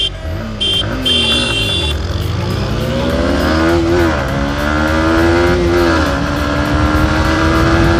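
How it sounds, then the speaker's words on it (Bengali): Apache RTR 160 and Yamaha MT 15 motorcycles in a drag race, their engines loud and close, revving hard with pitch climbing and dropping through repeated gear shifts. "তো গাইস এখন আমরা ড্রাগ রেস স্টার্ট করবো।"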